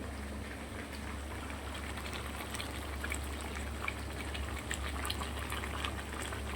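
Chicken curry cooking in a pan over a gas flame at full heat gives a steady bubbling, sizzling hiss, close and even throughout, with no voices.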